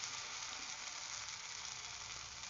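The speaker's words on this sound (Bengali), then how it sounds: "সর্ষেটা অল্প একটু নেড়ে ছেড়ে দিচ্ছি।" Mustard seeds frying in hot oil in a pan for stuffed brinjal, stirred briefly, giving a steady, dense close sizzle that stays even throughout, with no talking.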